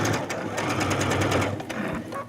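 A sewing machine with a walking foot stitching a quilted jacket, running in a steady, fast mechanical whir of needle strokes, close and continuous before easing near the end.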